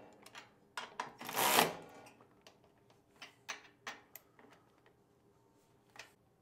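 Bolts are tightened on the hinge plate of a Wright Stander ZK 52-inch mower during a GrassFlap install, with a series of close, quick metallic ratchet clicks and a short rasping burst, no talking.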